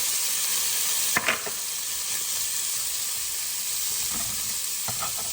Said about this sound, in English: now I'm gonna take my cut up lamb loins, dump it in there